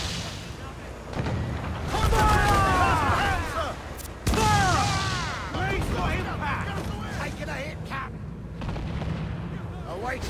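Heavy ship cannons boom in Assassin's Creed IV Black Flag during a naval battle: several deep blasts roll out, with loud impacts near two and four seconds, amid crackling debris and splashing, while voices call out over the din.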